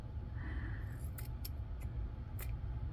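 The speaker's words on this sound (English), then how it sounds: "Hello, scissors." Scissors snip through fabric while cameo appliques are being cut, giving several crisp, close metallic clicks over low background hum.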